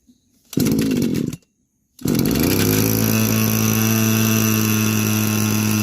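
Petrol-engined tea leaf harvesting machine starting up and running loudly and steadily close by, after a short burst and a brief pause, with a high buzzing two-stroke whine.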